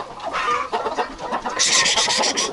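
Chickens, including broody hens, cluck and squawk close by in a busy, continuous chatter, with several birds calling over one another.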